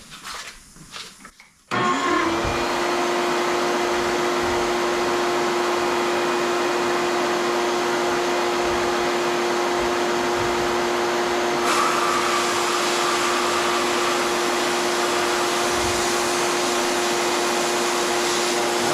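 A shop vacuum draws dust out of a Harbor Freight sandblasting cabinet, starting after a brief clatter and then holding a loud, steady whine with a constant hum, its pitch shifting slightly partway through and running without pause.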